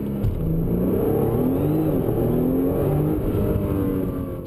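A 2013 Nissan GT-R launching hard under launch control, its engine a loud, steady close roar with rising tones as it accelerates through the gears, sustained for the whole stretch without talk.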